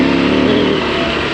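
An adventure motorcycle's engine revving, a loud, close, steady mid-pitched drone held without a break.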